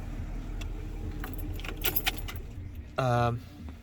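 Inside a VW Touareg, keys jingle in short bursts as the car is switched off, followed by a brief electronic tone over a low cabin hum.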